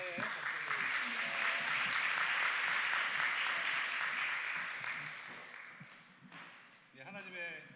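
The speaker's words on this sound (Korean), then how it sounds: "또 우리 감사의 박수 드리겠습니다." A church congregation at a Sunday afternoon service gives a steady, full round of applause that swells and then tapers off, followed by a voice speaking.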